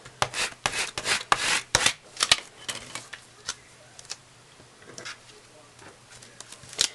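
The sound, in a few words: rubbing over vinyl to release it from backing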